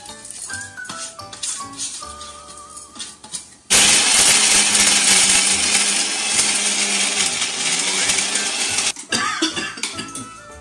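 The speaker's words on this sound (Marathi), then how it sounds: "हे सगळे मसाले आता आपण मस्तपैकी वाटून घेऊया फटकन" A kitchen mixer grinder blends roasted coconut, onion, chili, ginger, garlic, coriander, cumin and coriander seeds into masala. It roars loudly and steadily for about five seconds after some nearby clatter, then cuts off abruptly.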